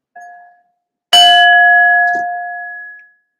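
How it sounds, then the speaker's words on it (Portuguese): A small hand bell is struck twice, a light faint ding followed by a louder, bright clang whose clear tone rings on and fades over about two seconds, alone and close. "vou batendo um sininho aqui"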